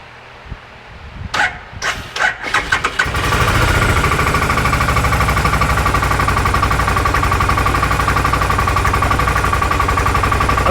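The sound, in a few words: Odes Dominator 1000 X2 LT UTV engine starting and idling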